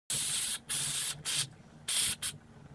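Cleaner sprayed from an aerosol can onto a dirty car throttle valve during cleaning: five sharp hissing bursts of varying length, close and loud, separated by short pauses.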